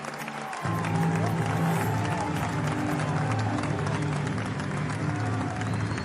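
A cricket crowd at a T20 World Cup stadium in New York for Pakistan versus Canada swells into a steady roar of cheering and clapping that holds loud and continuous after a sudden start.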